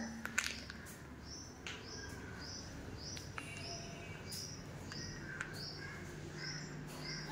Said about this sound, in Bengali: তোমরা শুনতে পাচ্ছ পাখির আওয়াজ।